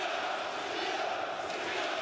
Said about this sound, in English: The crowd cheering on the Serbians.